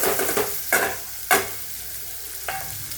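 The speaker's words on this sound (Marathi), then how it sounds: "तर फोडणी तर छान परतून घ्यायची आपल्याला काकडी।" Cucumber pieces stir-fried in a hot tempering of garlic, turmeric, coriander powder and fresh coriander, with a steady sizzle broken by several sharp scraping stirs of the spatula close by, and no talking.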